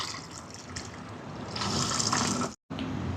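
Coconut milk poured into a simmering Jaffna-style prawn curry, a continuous liquid pour that grows heavier midway, cuts out briefly, then resumes, close and without voices.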